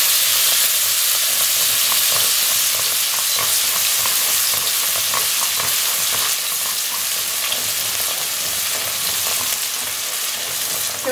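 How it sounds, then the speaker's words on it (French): Chopped shallots fry in a pan while being stirred nonstop, a steady dense sizzle with small scraping accents from the utensil, close and loud throughout with no voices. "Maintenant, j'ajoute les 2 échalotes que j'ai hachées, coupées finement. Je mélange pendant 1 minute sans arrêter de mélanger"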